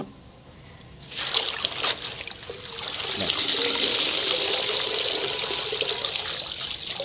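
Water trickles and pours steadily as kodithoova greens are washed in a vessel, close and fairly loud, starting after a quiet second and running on.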